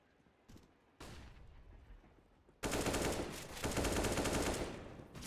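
Bursts of SMG fire from MAC-10s and MP7s in a Counter-Strike esports match, loud and dense rapid volleys that start abruptly and stay heavy with overlapping shots.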